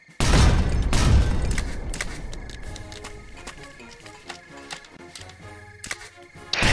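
An artillery salvo in the war game Foxhole opens with heavy booming blasts, then fades into scattered distant shots and clicking mechanical ticks under a low rumble, with another boom rising at the end.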